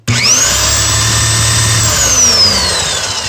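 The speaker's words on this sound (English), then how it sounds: "Sounds like an impact driver. But she can really spin up pretty fast." A Porter Cable PCE211 electric impact wrench spins up quickly from rest, its close, loud motor whine rising in pitch and holding a steady high-speed buzz for a few seconds without any hammering.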